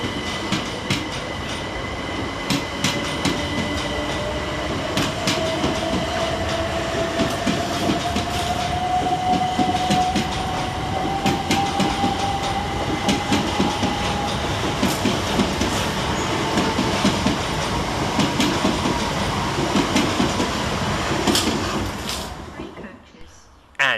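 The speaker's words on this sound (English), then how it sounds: "And here comes our train arriving in the form of 313212" Southern Railway class 313 electric train 313212 pulls into Angmering station, a loud rumbling approach with rhythmic wheel clatter and a rising whine before braking to a stop.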